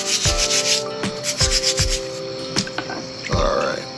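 Rough scrubbing of Chester County blue quartz, a brush or cloth grinding over the stone in several short, uneven strokes with faint clinks between them, close up with no talking.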